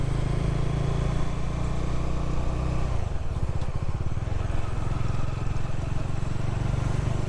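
Motorcycle on a long ride to the office in Navi Mumbai, a steady loud engine drone with wind and road rumble throughout, the engine note dropping and roughening partway through, no talk.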